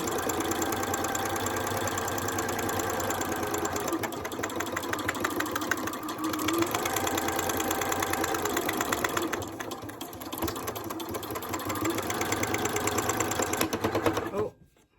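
A sewing machine stitching continuously around the edge of a paper art journal page, its steady rapid mechanical chatter loud and close, with a brief slowdown partway through before it stops at the end.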